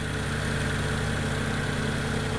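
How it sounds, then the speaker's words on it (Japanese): Car engine idling steadily with a radiator electric fan running, on a car with over 200,000 km, a constant loud mechanical hum and drone with no talk. "はいちょっとうるさいのでエンジンを止めます"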